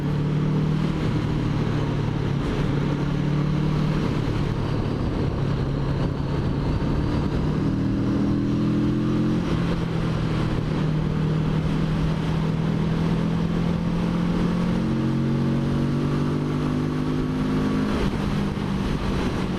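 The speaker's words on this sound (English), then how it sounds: "It feels like it's revving really, really, really high." Kawasaki Z650RS motorcycle engine running at high revs, a loud continuous buzzing drone with pitch rising and shifting across gears, nearby and steady throughout.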